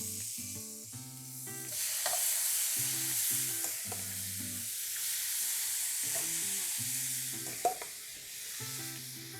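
Shrimp searing in a very hot non-stick pan with pink peppercorn, a bright steady sizzle running throughout while a low steady voice talks over it in intermittent stretches.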